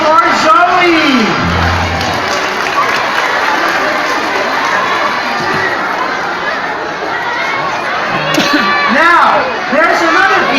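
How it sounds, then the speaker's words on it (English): Crowd at an outdoor sea lion show clapping and cheering in a steady, fairly loud wash, with whoops and lively chatter mixed in and a voice over the crowd. "How about another round of applause for Zoe?"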